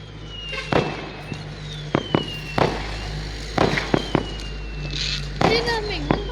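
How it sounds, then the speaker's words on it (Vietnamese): Fireworks and firecrackers explode on New Year's Eve in China, with repeated sharp bangs at irregular intervals over a constant low hum, some distant and some closer, as a person speaks. "Cái khu đấy nổ pháo gớm nha."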